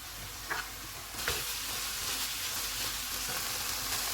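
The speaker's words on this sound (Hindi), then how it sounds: "इनको 2 मिनट तक भूनेंगे।" Ground spices (chili powder, black and white pepper, cumin, coriander) frying in a pan for keema spaghetti, a steady close sizzle with brief stirring scrapes and bursts.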